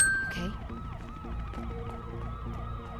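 Police sirens wail in the Mirror's Edge video game, a repeated rising and falling whoop cycling rapidly and loudly, with several sirens overlapping.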